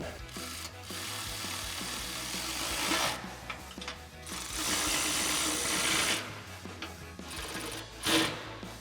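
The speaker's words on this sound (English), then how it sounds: "Now we'll tighten these down with our 13 mil socket on our ratchet." A ratchet with a 13 mm socket tightening exhaust bolts on a Ford F-150 during an MBRP Armor Lite dual exhaust install, giving bursts of rapid clicking ratchet strokes, close and clear, separated by short pauses.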